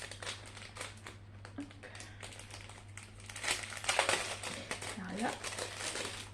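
Crinkly plastic mailer from SHEIN being torn open and unwrapped up close, rustling and crackling steadily with a louder burst midway, while someone speaks briefly over it and a low electrical hum runs underneath.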